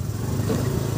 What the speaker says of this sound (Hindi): स्कूटी की सर्विस कर ली मैंने, तो अब देखिए क्या ही तो बढ़िया चल रही है